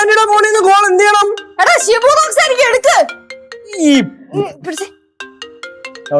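A mobile phone rings with a melodic musical ringtone from an incoming call in a Malayalam comedy skit. It plays loud and close, a song-like tune with vocal-sounding phrases followed by short bright tones.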